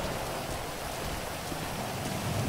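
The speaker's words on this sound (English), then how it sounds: "Oh. That's raining, man." Rain in a GTA 5 game falls as a steady, dense, hissing patter that sounds fairly close and holds constant through the short stretch, with no voices.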